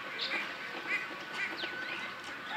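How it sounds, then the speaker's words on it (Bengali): Ducks at a large duck farm with several thousand birds quack repeatedly in short, nasal bursts, a cluster of calls overlapping at moderate distance over a steady outdoor hiss. "এখানে একটি হাঁসের খামার করা হয়েছে।"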